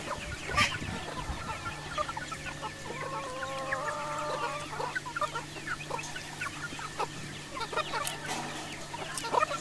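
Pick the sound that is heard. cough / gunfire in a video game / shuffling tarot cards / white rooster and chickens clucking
white rooster and chickens clucking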